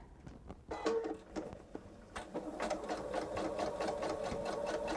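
Sewing machine top stitching a quilted tote bag along a folded edge, a few slow needle strokes at first, then a fast steady mechanical chatter of stitches, close and clear with no talking.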